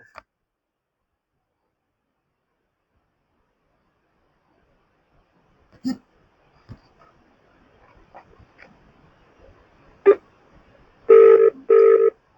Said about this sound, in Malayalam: റിങ് പോകുന്നുണ്ട്.